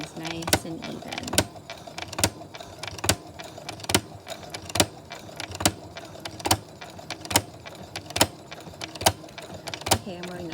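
Sewing machine fitted with a walking foot stitching fabric, a steady run of sharp mechanical ticks and clacks repeating roughly every second, close and clear with no voice over it.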